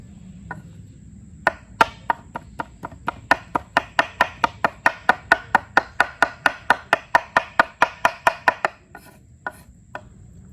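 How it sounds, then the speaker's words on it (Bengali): A knife chops meat into small pieces, mincing it for chowmein: about thirty sharp, close strikes land in a fast, steady rhythm on a board, with a brief pause and a few last chops at the end. "এখন আমরা চাউমিনের জন্য মাংসটা ছোট ছোট টুকরো করে নেবো"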